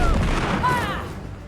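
A single gunshot in Shadow Gambit: The Cursed Crew rings out, a sharp burst with a short ringing tail under steady game ambience, while a voice talks around it.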